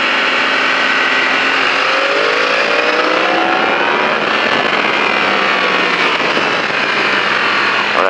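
A motorcycle on a riding track at La Ferté-Gaucher accelerates hard through a corner, its engine climbing in pitch with rising and falling whine, loud and close, without speech.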